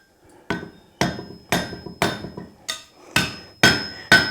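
A hammer strikes hot steel while forging the tines of a fork, eight sharp ringing blows at a steady, slightly quickening rhythm, close and loud with short decays between hits.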